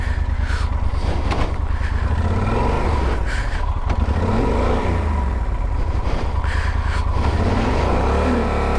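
A motorbike engine revs and pulls away, rising and falling through several gear changes as it rides nearby, loud and continuous throughout.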